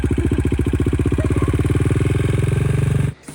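A worn KTM 450 single-cylinder engine fitted to an Amish buggy idles loud and close, a steady rapid thumping pulse that cuts off abruptly near the end.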